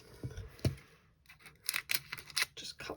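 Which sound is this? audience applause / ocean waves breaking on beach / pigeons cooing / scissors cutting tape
scissors cutting tape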